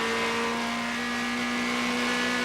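Toyota Corolla GT touring cars racing in the 1989 British Touring Car Championship, with a steady, loud engine drone holding a constant pitch throughout.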